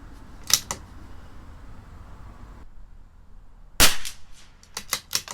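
A CZ 457 LRP rifle with an IBI barrel fires SK Long Range Match ammunition during group testing: two loud, sharp shots stand apart by about three seconds, followed by a few quieter mechanical clicks.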